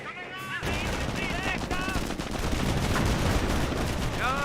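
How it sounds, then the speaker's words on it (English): Stun grenades thrown by Wehrmacht troops in Company of Heroes, a sharp onset followed by a sustained dense clatter of bangs and small-arms fire, with brief voice-like chirps over the din. "More stun grenades being cast by the Wehrmacht player."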